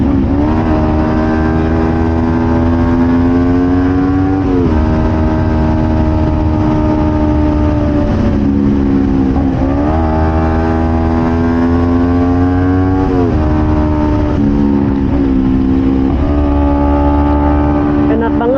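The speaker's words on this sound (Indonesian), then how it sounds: "Di sini saya coba tes knalpot Crossfit Python." A Kawasaki Ninja 250 FI with a Crossfit Python aftermarket exhaust idles with a deep, throaty exhaust note, rising in several revs and settling back, loud and close throughout.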